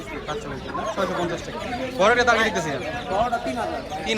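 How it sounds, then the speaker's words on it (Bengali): Brahma chickens at a busy Bangladeshi bird market cluck and squawk in short bursts, mixed with crowd noise and someone talking close by. "এখানে ব্রাহ্মা দেখতেছি নাকি এটা ব্রাহ্মা জোড়া আছে"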